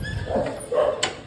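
Dogs at a home give short yips and whimpering barks, with a couple of brief bursts and a sharp high yelp near the end, close and moderately loud over faint background noise.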